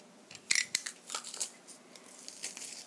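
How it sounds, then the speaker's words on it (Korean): Garlic cloves crushed in a hand garlic press while making garlic oil for garlic fried chicken: a few crisp, crunchy squeezing crackles, close and fairly quiet, with no talk. "먼저 갈릭, 마늘은 이렇게 으깨는 기구에 넣어서 이렇게 으깨 주시고요."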